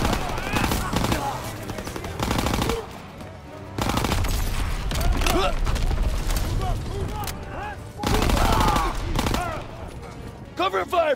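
Gunfire in the Call of Duty WWII first-person shooter, with dense bursts of rapid machine-gun and rifle shots in loud, sustained volleys broken by short pauses, and shouted voices mixed into the battle noise.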